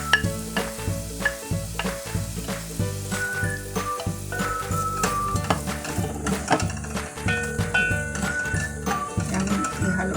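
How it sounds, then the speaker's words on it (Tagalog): Sautéed onion is stirred in a pan for chicken sotanghon soup, with rhythmic clinking and scraping of a utensil against the metal pan over a low sizzle, close and fairly loud, no talk. "Haluin lang po natin ang ating sibuyas para pati hindi masunog."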